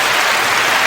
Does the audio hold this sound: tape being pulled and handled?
no